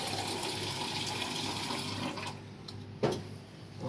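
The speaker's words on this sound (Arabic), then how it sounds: "حط ميه بقى." Water poured into potato dough in a kitchen: a steady splashing stream for a couple of seconds that then stops, followed by a single soft knock.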